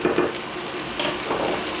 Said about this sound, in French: Là je mélange comme il faut